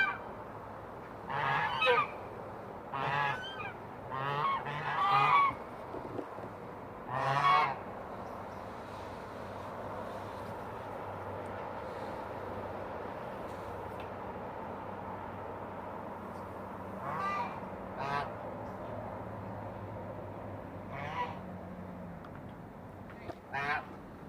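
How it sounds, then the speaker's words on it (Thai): Domestic geese let out for evening exercise honk repeatedly outdoors, bursts of loud calls clustered at the start and again later over a steady low background hum, with quieter stretches in between. "วันนี้กันเราก็จะปล่อยให้ห่านออกมาวิ่งออกกำลังกายตอนช่วงเย็นนะคะ"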